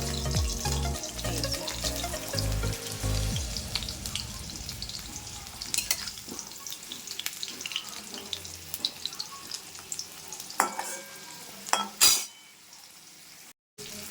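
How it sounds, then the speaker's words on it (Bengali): Potatoes deep frying in oil, a steady hiss and crackle with stirring clatter, loudest over the first few seconds and then settling into a fainter sizzle with occasional utensil knocks. "আলুগুলো লাল লাল করে ভেজে নিচ্ছি"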